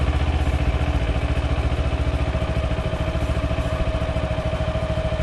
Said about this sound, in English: the sound of the engine actually went down